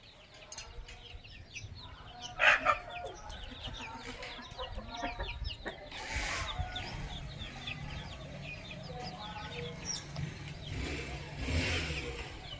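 Chickens cluck and a rooster calls in bursts amid outdoor ambience, with a faint engine rumbling in the background.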